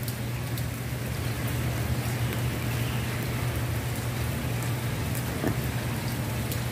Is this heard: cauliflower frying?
no